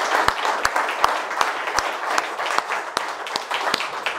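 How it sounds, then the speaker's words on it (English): An audience gives a round of applause for a guest of honor at a formal event, dense steady clapping from a crowd with a few sharper individual claps standing out, continuous for the full stretch. "Guys, a round of applause can already start."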